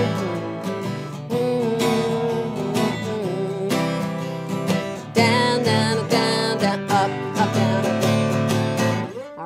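Loud guitar chords strummed steadily, with hard accented strokes punching out like a snare hit on the backbeat; no voices.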